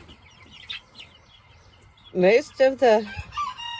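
Faverolles chickens on a farm, with a rooster crowing loudly in a few close harmonic bursts amid softer clucking and a brief spoken phrase at the start.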